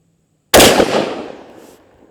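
A TriStar Viper G2 shotgun fires a single Remington rifled .410 slug: one loud, close blast that rings out and fades over about a second and a half. No talk.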